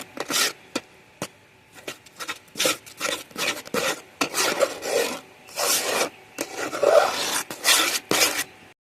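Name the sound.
stirring milk dough continuously in a pan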